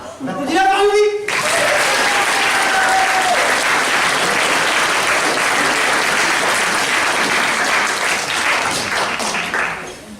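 A live comedy audience breaks into loud, sustained applause that fills the room for about nine seconds, after a brief voice at the start.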